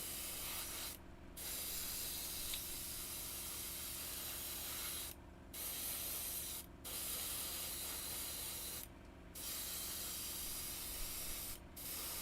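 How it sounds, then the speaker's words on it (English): Spray primer hisses from a can onto a miniature model in steady bursts, broken by four short pauses, close and fairly quiet. "I'm just whacking a bit of primer down on it."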